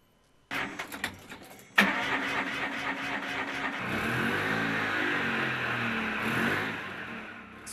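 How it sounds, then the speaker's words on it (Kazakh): An elderly driver's car engine turns over and starts, then settles into a steady, close running hum as the car drives off, with no talk over it. "Асыл қарт көлікті әлігінгі дейін өзі басқарады."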